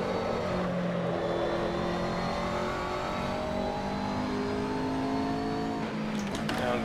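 McLaren GT car engine in Assetto Corsa racing, a steady loud drone rising through gear pulls and shifting down again for corners, with faint voice-like murmur underneath.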